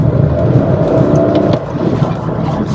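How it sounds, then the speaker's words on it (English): Petrol engine of a Toyota Urban Cruiser Hyryder hybrid SUV droning steadily from inside the cabin, a constant low hum with road rumble and no talking. "when it switches to the petrol mode, there is some amount of noise that starts creeping in from the engine"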